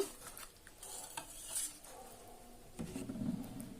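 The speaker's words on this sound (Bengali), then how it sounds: "তারপর হুইস্ক দিয়ে আবার মিশিয়ে নিচ্ছি" A whisk stirs flour batter with a little water for bokful flower fritters, quiet scraping and clinking against the bowl in uneven strokes, with a louder burst of mixing near the end.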